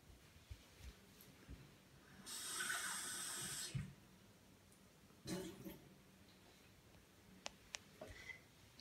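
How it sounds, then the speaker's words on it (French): Water is poured into a mix of baking soda and cornstarch, giving a soft splashing pour of about a second and a half, then a shorter splash, with faint clinks and small handling sounds around it in a quiet room. "On va vous remplir avec l'eau."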